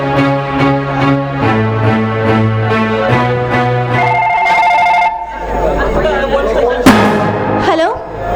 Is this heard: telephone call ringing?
yes